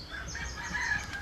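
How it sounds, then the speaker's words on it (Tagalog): Chickens in a backyard pen, with a hen among them, giving short clucks and fowl calls at a moderate distance over a steady low hum of background noise. "may inahin kami dyan"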